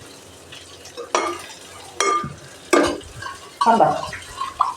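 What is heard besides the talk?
water poured into cornflour and stirred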